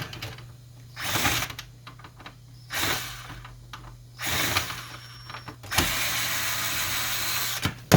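A power screwdriver removes a screw from a Canon MG6620 printer being taken apart, whirring in several short bursts and then one longer run over a low electrical hum.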